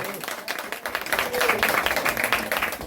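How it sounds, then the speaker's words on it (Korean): Audience applause welcoming a speaker at a lecture on the April 10 general election results, steady broadband clapping throughout with some voices mixed in. "큰 박수로 모시겠습니다"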